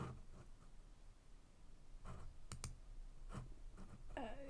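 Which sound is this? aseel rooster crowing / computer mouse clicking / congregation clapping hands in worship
computer mouse clicking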